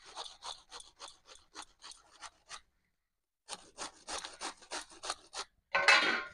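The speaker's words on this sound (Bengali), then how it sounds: "ফুলকপি খসা হয়ে গেছে" Cauliflower being grated by hand, a run of quick rhythmic rasping scrapes, a short pause, then another steady series of close grating strokes.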